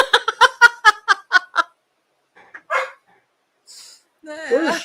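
Shiva, a pet dog shut in the bedroom, barks in a quick run of about eight sharp, close barks, then gives a few softer yelps and whimpers as voices come in.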